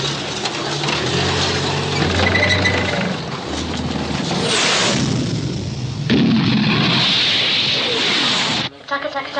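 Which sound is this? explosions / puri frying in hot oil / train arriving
explosions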